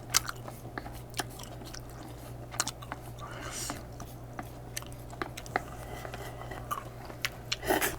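Someone is eating spicy mala stir-fried cup noodles from a large Samyang cup, making close, soft chewing and slurping sounds with small crunches and mouth noises. Quiet background hum runs throughout.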